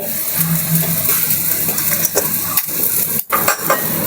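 Sweet fish sauce for sadao simmering and bubbling in a pot while being stirred, a dense continuous bubbling hiss with scrapes and light clinks of the utensil against the pot, close and fairly loud.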